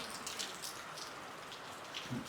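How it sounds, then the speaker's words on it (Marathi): Heavy rain pours down in a continuous, even hiss, fairly quiet and distant, with scattered drop patters and no voices. "पाऊस खूप जास्त पडतोय"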